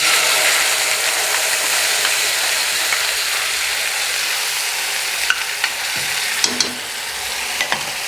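Ground Chettinad kara chutney sautéing in a hot pan gives a loud, dense, steady sizzle throughout, with occasional faint clicks of a spoon near the end.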